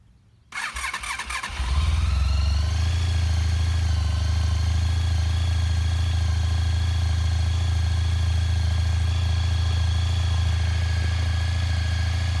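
A 2003 Honda ST1300 ABS motorcycle cranks briefly, fires up within about a second and settles into a loud, steady, even idle that carries on uninterrupted.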